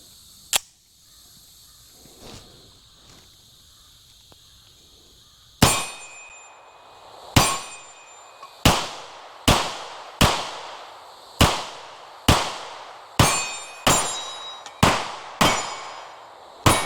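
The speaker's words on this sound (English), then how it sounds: "let's go ahead and get into some shooting" A CZ Shadow 2 pistol fires a string of sharp, loud shots, first a lone report and then about a dozen evenly spaced rounds with ringing metallic decay, outdoors with no talking.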